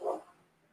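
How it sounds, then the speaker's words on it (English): Two big Rottweilers bark outside, a single short burst that sounds muffled and fairly distant, then fades quickly. "my dogs are out there flipping out"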